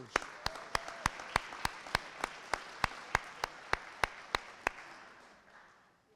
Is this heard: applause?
yes